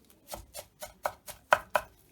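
Seven quick knife chops through onion on a cutting board in a steady rhythm, close and crisp, with no talking.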